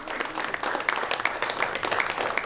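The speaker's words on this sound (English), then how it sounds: "Please, a well-deserved round of applause for the students' parents and their teachers and coaches" Audience applause at a science bowl championship, a brief patter of clapping heard from a distance and fairly faint throughout.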